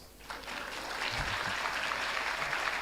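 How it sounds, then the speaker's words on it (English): Audience at a philanthropy forum applauding for the Kenyans in the room, a sustained, even burst of clapping that swells after a brief pause and holds steady at moderate distance. "Let's clap for the Kenyans."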